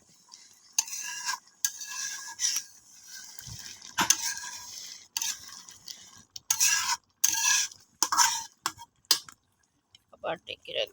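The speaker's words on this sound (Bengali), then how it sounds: "সরানো নিয়ে একটু নেড়ে দেব।" Food stirred with a spatula in a cooking pot, scraping and clattering in irregular bursts separated by pauses, close and moderately loud, with a faint sizzle between strokes.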